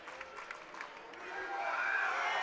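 Applause and light cheering from a high school state basketball crowd grow louder toward the end, continuing steadily through the final seconds.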